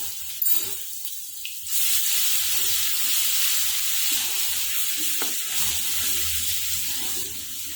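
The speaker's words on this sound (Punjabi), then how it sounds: "ਤੇਲ ਆਪਣਾ ਗਰਮ ਹੋ ਗਿਆ ਹੁਣ ਆਪਾਂ ਇਹਦੇ ਵਿੱਚ ਅੱਧਾ ਚਮਚਾ ਜੀਰੇ ਦਾ ਪਾਵਾਂਗੇ ਲਸਣ ਦਾ ਪੇਸਟ ਪਾ ਦਵਾਂਗੇ ਆਪਾਂ" Half a spoon of cumin and garlic paste dropped into hot oil, bursting into a loud, steady, close sizzle that holds unbroken after a short quieter start, with no voices.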